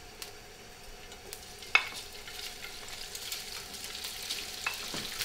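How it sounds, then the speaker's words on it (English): Crumbled sausage sautés with garlic in a pan, a soft, even sizzle heard close but quietly, with a few faint clicks of a utensil. "And we saute nice the sausage to make sure every little piece goes separate one of the other."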